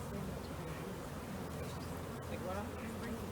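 Honeybees scooped from a hive's brood chamber for a mite sample, giving a steady close buzzing drone throughout, with people talking faintly in the background.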